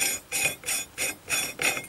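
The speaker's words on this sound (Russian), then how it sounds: "Вот разводите тиски. Такой противный звук." Steel vise jaws being spread apart while fitting a front fork with tapered bearings on an IZh Planeta 5 motorcycle, six rhythmic harsh scraping rasps, each about a quarter second, close and unpleasant.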